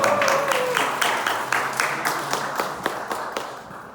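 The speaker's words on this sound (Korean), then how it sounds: "박수 한번 하겠습니다" Audience applause at a church youth outreach gathering, a burst of scattered clapping from a crowd that starts fairly strong and gradually thins and fades over several seconds.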